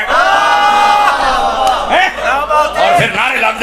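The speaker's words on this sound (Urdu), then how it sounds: "اور پھر نعرے لگتے ہیں شیر اہل سنت" Crowd at a religious speech shouting a slogan in unison, loud roaring chants with rising and falling voices that come in bursts, then a voice shouts over the crowd near the end.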